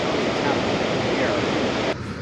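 Rushing water roars from the falls at Twin Falls, Idaho, a dense, broad hiss that fills the scene continuously before dropping off abruptly near the end.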